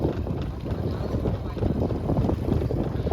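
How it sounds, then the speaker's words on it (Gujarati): A boat powered by a truck engine runs steadily, with a low rumbling drone mixed with wind buffeting the microphone and water noise, close and fairly loud. "ખટારાનું મશીન હોય બોટમાં."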